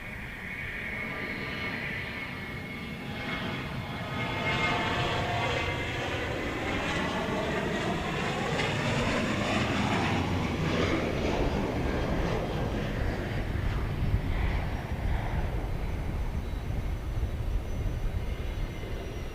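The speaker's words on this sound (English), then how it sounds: "Here comes Flight 51 to Houston." Passenger jet taking off at Dallas Love Field airport at night, a steady loud engine roar that swells and holds, with rising and falling whine tones as the aircraft accelerates down the runway.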